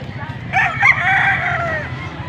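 A rooster crows once at close range, a strong drawn-out call over a low background hum, at a gamefowl sale in Pampanga where a white-hackled stag is shown.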